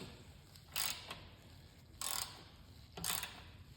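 Half-inch ratchet wrench working a nut beneath a lawnmower carburetor, giving three short bursts of rapid ratcheting clicks spaced about a second apart, close and fairly quiet with no talk.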